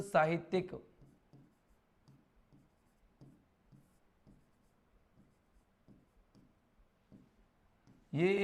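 Chalk or marker writing on a board, a series of faint, soft scratchy strokes in an irregular rhythm, with someone talking before and after.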